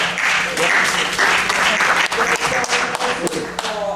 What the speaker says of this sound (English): They deserve a round of applause every time.